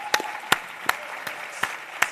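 Scattered audience claps at a conference in the Royal Albert Hall, several isolated sharp claps spaced about every half second over a soft room murmur, moderately distant and fairly faint.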